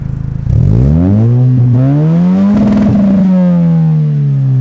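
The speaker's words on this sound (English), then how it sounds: "give it some revs" A Lexus IS 300 engine starts with a rough crank, then revs up loudly through a deep, throaty aftermarket exhaust, rising and holding before settling back.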